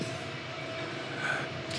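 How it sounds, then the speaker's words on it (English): A train rumbles steadily in the background, a continuous low drone with a faint higher squeal that swells briefly midway, heard alone without speech. "Just like the train in the background."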